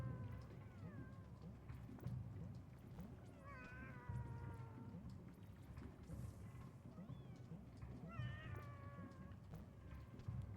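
Caged cats in the video game Animal Well let out a few drawn-out, warbling meows spaced several seconds apart, clear over a quiet, rain-like background hiss.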